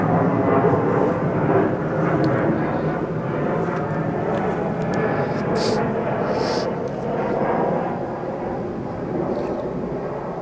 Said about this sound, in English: Sorry, there was an airplane.